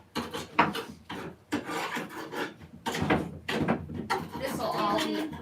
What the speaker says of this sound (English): I'm just gonna keep scraping as much as I can of this paint off, getting all the loose stuff off.